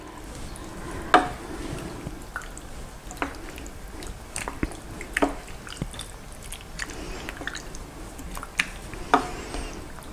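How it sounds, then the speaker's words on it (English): Cheesy baked rigatoni with summer squash is stirred close by, giving soft, sticky squishes and scraping with a few sharper knocks of the spoon against the dish, all fairly quiet. "I'm going to give this a nice stir."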